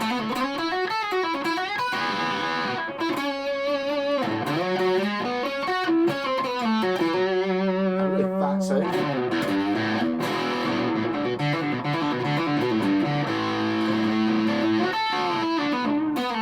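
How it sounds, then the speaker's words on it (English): A custom-built Fender-style electric guitar played through a distortion effect, with chords and riffs in a continuous heavily saturated tone. "I think it was the best distortion for this guitar."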